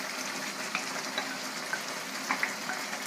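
Onion and carrots hit a hot frying pan for pansit, a soft, steady sizzle with faint pops and crackles close by, no talking.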